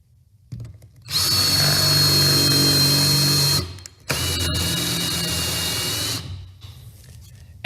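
A power drill cuts a hole, running first in reverse and then forward: two loud, close, whining bursts of motor and bit noise, separated by a short pause, with a quieter rattle as the second run winds down.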